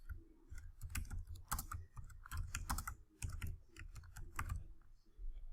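Computer keyboard typing while filling in a Dreamweaver CS6 web form field, with rapid irregular clicking bursts close up and short pauses between.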